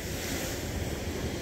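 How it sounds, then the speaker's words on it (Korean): Ocean surf rolling onto the shore at low tide, a steady, loud wash of breaking waves with wind noise buffeting the microphone throughout, no voices. "파도는 무지하게 좋아요."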